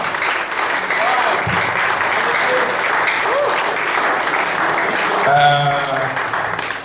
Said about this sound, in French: Est-ce que nous pouvons encore applaudir très très fort?